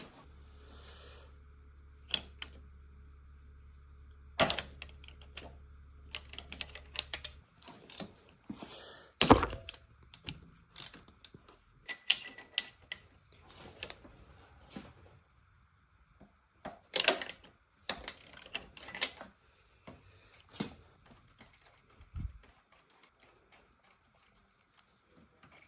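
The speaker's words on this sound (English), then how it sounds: "Just had to grab a smaller ratchet." A ratchet and tools work the bolts on a 2023 YZ125 motorcycle top end during a rebuild, giving quiet scattered clicks, ticks and metallic knocks in irregular bursts with pauses in between.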